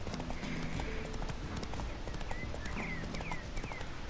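Horse hooves clip-clop in a steady, even rhythm as a mount travels through The Witcher 3 video game, the trotting beat close and continuous over a bed of ambient game sound.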